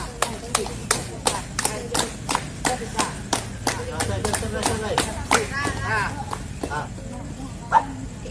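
Hands clapping in a regular, fairly close rhythm of sharp claps, slowing and thinning toward the end, with voices talking and calling underneath.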